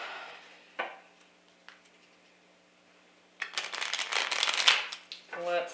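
Tarot cards being shuffled by hand, with a brisk run of riffling and flicking from about the middle onward after a couple of isolated card snaps, close and fairly loud.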